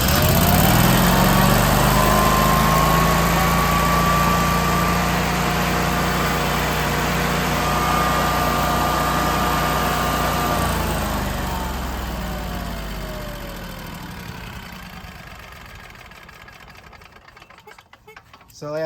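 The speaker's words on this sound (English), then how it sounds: "it's a good idea to just start up the engine, warm up the oil for a little bit" The engine of a Generac whole house generator runs in manual mode to warm its oil, a loud, steady droning hum with a whining tone that holds, then gradually fades as it winds down.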